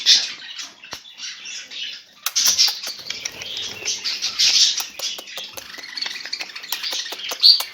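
Small birds chirp and tweet rapidly and repeatedly at close range, with light fluttering and pattering sounds scattered among the calls.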